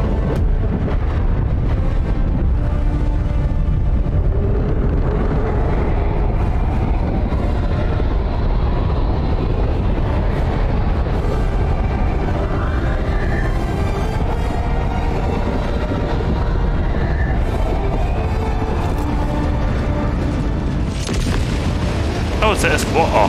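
Cannons firing in a video game, a dense, continuous barrage of deep booms and rumbling blasts filling the whole stretch, loud and layered without pause.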